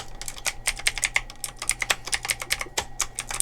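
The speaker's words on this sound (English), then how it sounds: "Aggressive keyboard noises." Rapid, aggressive clatter of a computer keyboard, with dense overlapping keystrokes hammered close to the mic, continuous for a few seconds with no voices.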